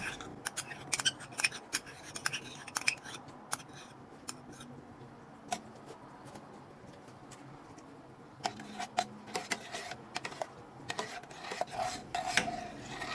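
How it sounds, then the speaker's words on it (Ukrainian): A spoon scrapes and clinks in a pot of cherry jam with agar-agar, stirring with irregular rasping strokes and occasional sharper taps, close and fairly quiet. "Це тепер я перемішую"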